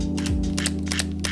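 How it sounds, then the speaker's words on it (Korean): A Sony A7C mirrorless camera shutter fires a rapid string of sharp, dry clicks close by, evenly repeated over a constant low electrical hum. "A7C의 경우 한번 들려드리겠습니다."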